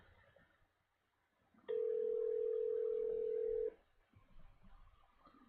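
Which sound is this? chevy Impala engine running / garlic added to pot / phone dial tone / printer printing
phone dial tone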